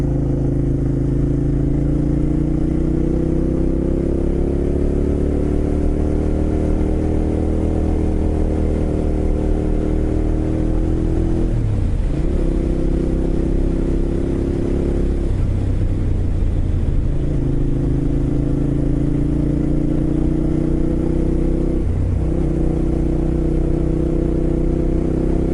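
A Ducati motorcycle engine drones loud and close while riding, pitch climbing through gears with brief dips at each shift, continuous throughout.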